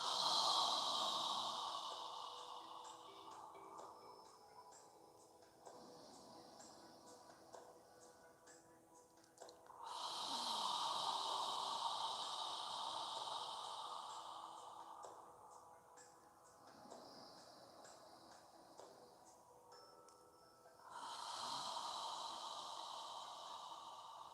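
Slow yoga breathing during a seated class, with long drawn inhales and exhales swelling and fading in regular cycles about every ten seconds, soft and close with no talking.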